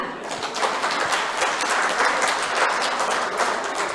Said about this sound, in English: And then clap.